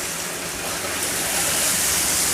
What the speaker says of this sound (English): Still have water coming through.